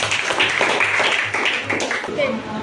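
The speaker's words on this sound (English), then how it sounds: "All clap your hands." Students clap their hands together at a school eighth-grade learning showcase, a dense steady patter of claps from a classroom group, with voices talking over it throughout.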